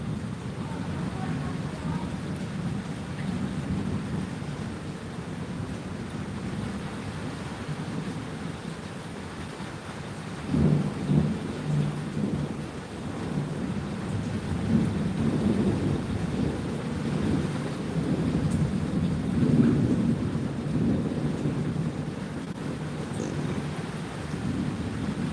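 Fast-moving thunderstorm in southeast Queensland after a very hot day, with low rolling thunder and steady rain hiss throughout, swelling in a few stronger rumbles midway; fairly quiet and distant.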